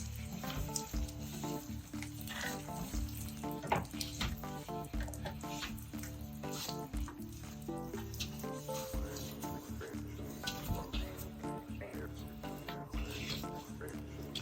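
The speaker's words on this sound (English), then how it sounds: "Scrubbing the frame first" A frame with hard water stains is scrubbed and rinsed, water spraying and splashing steadily with rhythmic scrubbing strokes, close and fairly loud throughout.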